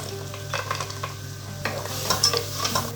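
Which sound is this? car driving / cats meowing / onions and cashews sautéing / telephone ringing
onions and cashews sautéing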